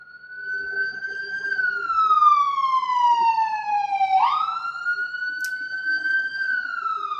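A loud emergency vehicle siren wails steadily nearby, its pitch sliding slowly down, jumping back up, then rising again, with no voices over it.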